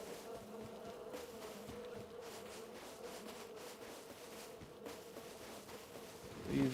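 Steady insect buzzing of bees in the video game Rust fills the whole stretch, a continuous droning hum at moderate level with a brief louder swell at the end, no talking.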